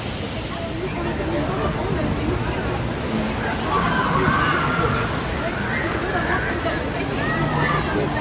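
Water splashes and sloshes at the River Quest water ride at Phantasialand, a steady broad rush blended with the murmur of a crowd in the background.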